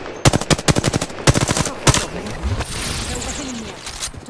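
Rapid bursts of R-301 assault rifle fire in the battle royale game Apex Legends, several close, loud volleys in quick rhythm, then fading into quieter in-game ambience and effects.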